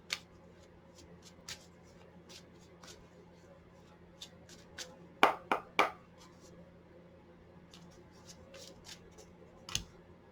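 Tarot cards being shuffled by hand in scattered soft ticks and riffles, with a brief louder burst of snapping card sounds partway through, set against a quiet room hum.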